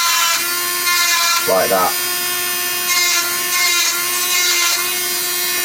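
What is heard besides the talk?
Dremel rotary tool cutting circuit board traces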